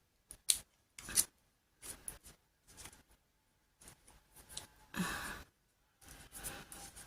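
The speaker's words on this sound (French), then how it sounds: "Allez, et là, je coupe un tout petit peu." Scissors snipping through paper card while trimming a pop-up card, a series of short, close, crisp cuts separated by brief pauses.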